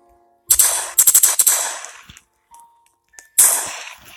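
Gunfire from a gun in the horror video game The Rake, a loud rapid burst of shots followed by faint clicks and tones, then another sharp burst near the end.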